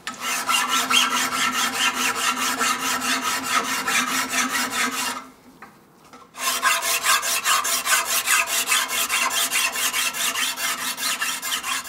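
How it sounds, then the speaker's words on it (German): Metal is worked with a hand file during trumpet making in a workshop. Rapid, steady rasping strokes run close and continuous, with one brief pause near the middle. "Feilen, schleifen, polieren."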